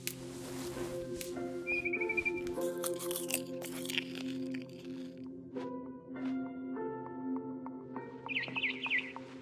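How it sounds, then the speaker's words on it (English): Barn swallows chirp and tweet in short bursts in a video game, over a background of crunching and assorted tones, the calls scattered and fairly close. "Then I heard chirping outside my window. It was a barn swallow going back to her nest."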